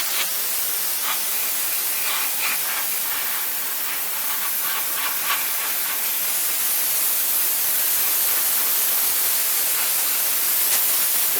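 An airbrush with a 0.5 mm nozzle sprays Gaia Notes paint onto a large 1:72 SR-71 Blackbird plastic model kit, a steady close hiss running continuously with faint ticking underneath.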